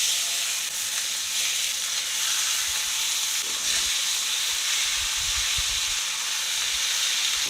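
Stuffed chicken thighs sear in a hot pan of olive oil, a steady, close sizzle and hiss that runs throughout, with a few low clunks of the pan.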